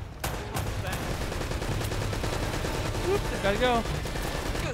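Rapid mounted-turret machine-gun fire in Uncharted: Drake's Fortune gameplay, sustained loud bursts with someone talking briefly over the shooting.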